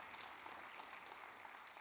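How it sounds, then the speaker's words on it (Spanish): A church congregation at a Spanish-language Sunday service applauds, a dense, steady crackle of many hands clapping together throughout, fairly distant and even. "Denle un aplauso fuerte al Rey de Reyes"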